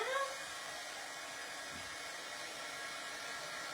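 A hair dryer blows steadily on a craft piece, a constant airy whoosh that starts slightly louder and then holds an even level throughout, with no talking.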